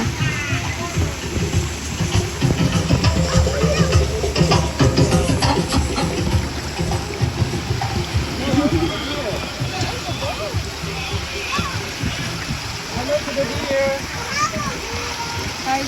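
Water sprays and splashes over riders on a theme park safari ride at the deer area. The rushing spray is loud and continuous, and excited voices, including children, chatter and exclaim throughout.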